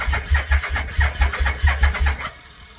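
A 1989 Yamaha VMAX motorcycle engine cranks with a loud, rhythmic chugging of about a dozen quick pulses. It turns over without settling into a steady idle, then cuts off abruptly near the end.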